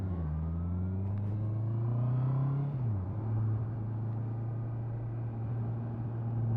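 A 2023 Honda CBR650R motorcycle in third gear rolls on the throttle down a hill, its engine note climbing steadily in a smooth continuous drone, dipping briefly at a gear or throttle change before holding steady, recorded close.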